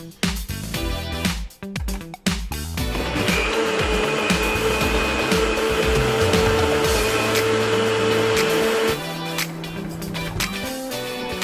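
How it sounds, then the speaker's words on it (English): A blender purées boiled onion with soup for a Syrian shakreyeh beef and yogurt stew, giving a loud, steady motor whir for about six seconds after a few opening knocks and clatters, then cutting off. "Blend the boiled onion with some soup."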